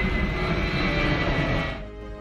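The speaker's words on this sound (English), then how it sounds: "We can also observe the signal from airplane." An airplane passing over an urban area, heard as a steady, loud broadband engine roar that fades away toward the end.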